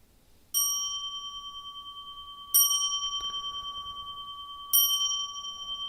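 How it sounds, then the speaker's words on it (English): Three clear, ringing bell strikes at a Zen talk, spaced about two seconds apart, each leaving a long bright tone that fades slowly. The room is otherwise quiet. "3 bells, please."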